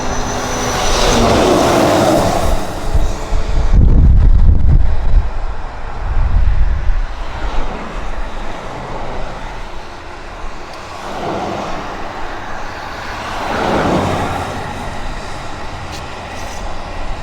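Heavy USAF transport and tanker jets such as the KC-135, C-5, C-17, P-3 and KC-46 arriving at Abbotsford, a loud broad roar that swells, peaks and then lingers as a steady distant rumble.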